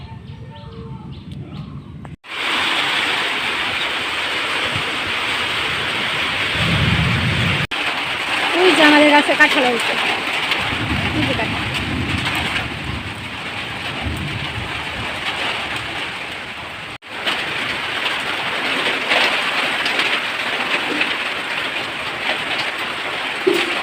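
Steady rain falls outdoors after a long dry spell, a continuous hiss with occasional low thunder rumbles underneath, while a person talks over it.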